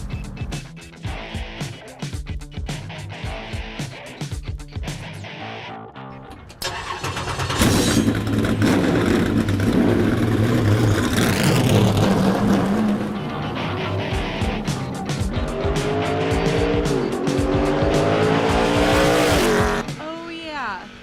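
A car on the track at Toledo Speedway revs, accelerates and skids with squealing tires, loud and close, with people talking excitedly over the engine.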